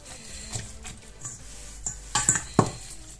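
Spices worked into raw beef in a bowl for a beef and vegetable stir, with soft clinks and scrapes of a utensil against the bowl building to a few sharper knocks near the end; no voices.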